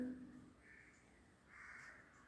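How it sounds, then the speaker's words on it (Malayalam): A crow caws in a tower-climbing video game, two faint calls drawn out over a quiet background with no talk. "ഹായ് കാക്ക. കാക്കൾ കാണാൻ എന്ത് രസമാ."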